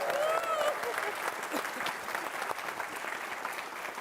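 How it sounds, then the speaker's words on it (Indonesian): Steady audience applause at an evening parody show fills the whole stretch, dense and continuous, with a few voices briefly audible early on. "kita berikan tepuk tangan untuk Pak Sapir Sendok."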